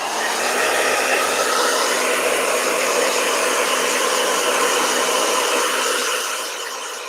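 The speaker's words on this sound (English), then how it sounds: "Blow dry." A hair dryer blows on watercolor paint in a continuous loud, close whooshing roar that holds steady for about six seconds before easing slightly at the end, with no talking.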